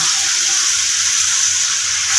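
Water gushes steadily into a pan of well-fried spice masala for a fish curry, a continuous hissing pour with faint sizzling underneath.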